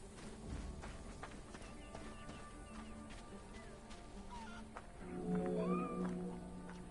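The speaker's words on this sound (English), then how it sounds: "These cats found me again." Cats meowing in the Egyptian setting of Assassin's Creed Origins, with several short, close meows and a louder drawn-out cry near the end over quiet ambient game noise.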